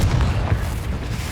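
A Confringo fire spell explodes in Hogwarts Legacy, one short, loud, deep boom that fills the brief moment on its own.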